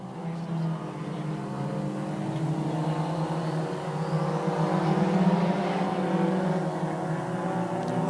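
Stock cars race around an off-road speedway, their engines producing a loud, continuous roar with layered droning tones that swell slightly as the pack sweeps down the backstretch into the turn.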